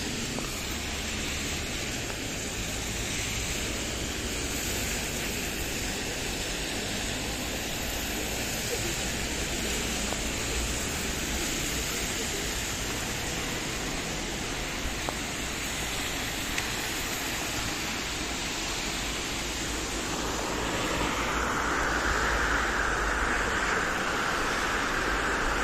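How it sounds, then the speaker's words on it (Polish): Rainwater pours down a flight of outdoor city steps like a small waterfall. It makes a dense, steady rushing wash that grows a little brighter near the end. No one speaks over the continuous water noise. "Schodowodospad."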